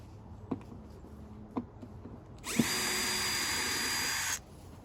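A power screwdriver whirs steadily for about two seconds, backing screws out of a vintage 1980s Korg Poly-61 synthesizer, preceded by a few small clicks and taps of handling.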